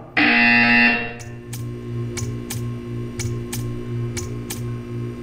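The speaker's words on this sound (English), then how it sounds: "You will hear a buzzer." A loud, harsh electronic buzzer in the video game Portal 2 blares for about a second, then fades into quieter rhythmic ticking and low hum.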